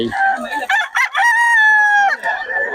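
A rooster at a market in Bocaue crows loudly and close by, one long drawn-out call with a stuttering start, and another bird clucks near the end.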